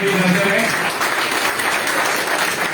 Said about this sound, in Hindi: श्री सचिन गोयल जी, आप 14 तालियों से अपने साथियों का अभिनंदन भी करते हैं।